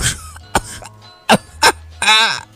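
Several sharp coughs in quick succession, close and loud, separated by short pauses.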